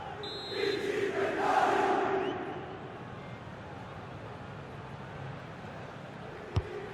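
A stadium crowd in EA FC 26 football gameplay swells into a loud chant and cheer ahead of a corner, then fades to a low murmur, with a sharp click near the end.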